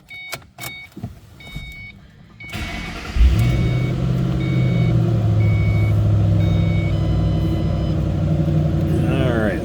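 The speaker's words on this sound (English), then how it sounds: "Let's go ahead and start it up." A 2005 Ford Mustang GT Premium convertible with about 2,095 miles cranks and fires up after a few clicks and chimes, then settles into a loud, steady rumbling idle close by.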